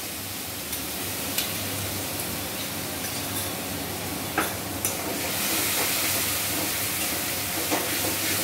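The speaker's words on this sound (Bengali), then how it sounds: "গুলে রাখা গুঁড়ো মশলাটা কড়াইতে দিয়ে দিলাম।" Ground spices mixed with water sizzle in a hot kadai, with a steady hiss and occasional sharp crackles and pops, growing brighter near the end, no talking.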